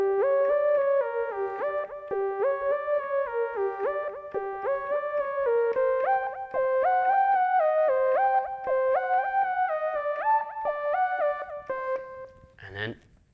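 A simple easy piano tune played slowly, steady single-note melody moving over sustained tones, clear and close, ending in a short thump.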